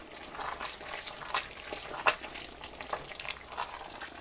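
A spoon stirs a goulash mixture with taco seasoning and garlic powder in a pot, giving soft wet scraping and faint sizzling with a few louder clinks, quiet and close.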